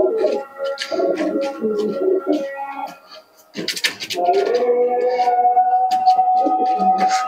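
Giribaz pigeons of the Murshidabad line in a home loft, giving close, repeated throaty coos that run almost continuously, with someone speaking over them in places.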